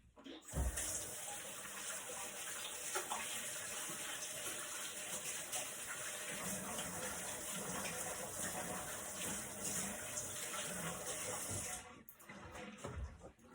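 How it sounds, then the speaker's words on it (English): Kitchen tap running while hands are washed: a steady close splash and rush of water lasting almost the whole stretch before being shut off, with small rubbing variations and no speech. "Let me wash my hands first."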